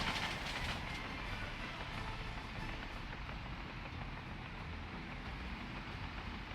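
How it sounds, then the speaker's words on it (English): A train climbs a long mountain railway in a video game, giving a steady, continuous rumbling roar with a faint rattling texture and no voices. "now let's see if this train can go up this hill"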